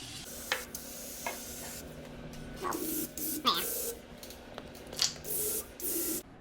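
Short hissing bursts of a Deep Creep penetrating oil spray can on a stuck 1930 Ford Model A engine, several quick squirts in a row, close up, with faint clicks and handling noise between them.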